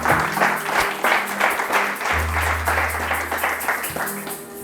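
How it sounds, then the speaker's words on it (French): A church congregation applauds in a dense, sustained burst of clapping while a low sustained note plays underneath. "Nous acclamons encore le Seigneur pour leur vie."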